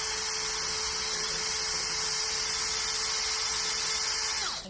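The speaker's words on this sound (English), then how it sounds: "by pressing the trigger on the drill." A cordless drill runs into wood with a sustained, piercing motor whine held at an even, loud level, then winding down in pitch as the trigger eases at the very end.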